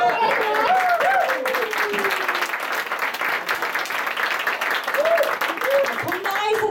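A crowd applauds steadily at a live idol concert, dense clapping filling the venue, with voices calling out over it.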